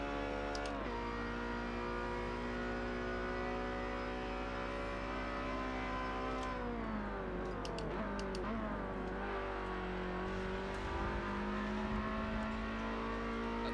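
Race car engine in a video game on the Le Mans circuit, a sustained tonal whine that holds steady, dips as revs fall around a corner and climbs again, heard alone without talk.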